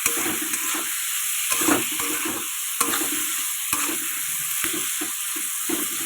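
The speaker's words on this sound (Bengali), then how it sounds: "তারপরে পুরো ভালো করে ভাজা করে নেব" Pangas fish fries in a pan with a steady close sizzle, broken by repeated scraping and clattering strokes as it is stirred and turned, with no talking.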